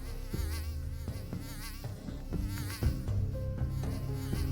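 Mosquitoes buzz in a forest in an animated story, a thin, wavering insect drone over soft background music with gentle plucked notes.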